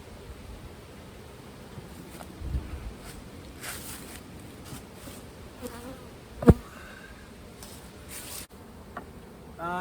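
A steady, low drone of many honeybees humming together at an open hive during inspection, fairly quiet and continuous, with a few faint rustles and a brief knock partway through.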